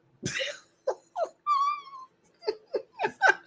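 A dog whimpers and whines in a short series of high, tonal cries mixed with breathy huffs and short yelps, heard alone and close.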